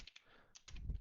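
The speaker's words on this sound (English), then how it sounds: "here I'm going to type in foobar" Typing on a computer keyboard produces a quick run of faint, close key clicks over about a second.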